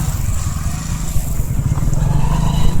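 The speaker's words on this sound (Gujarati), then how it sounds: "હું આની બાઈક પર બેસી ગયો છું." A motorcycle engine hums steadily and fairly loudly, heard from on the bike while riding, with a low throbbing drone that slightly rises near the end and faint background voices.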